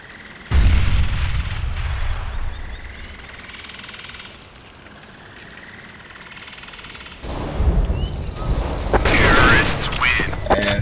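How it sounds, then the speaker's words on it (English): Counter-Strike: GO match with a grenade explosion and gunfire: a loud, close blast at the start that rumbles on, then a second burst of heavy shots and bangs near the end, with a voice talking over it. "Grenade!"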